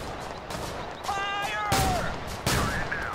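Gunfire in the video game Total Conflict: Resistance, with several sharp shots and bursts cracking over a busy battlefield, while a voice calls out briefly in the middle.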